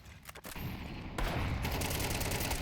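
Counter-Strike match with gunfire and many grenades thrown behind a bombsite on the Overpass map, a steady dense barrage of shots and blasts that grows louder after a brief lull.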